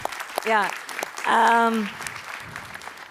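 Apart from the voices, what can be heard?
audience applause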